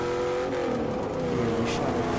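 Vehicle engine droning steadily while driving in the video game Battlefield REDSEC, a loud sustained hum with slight pitch shifts and no clear talk.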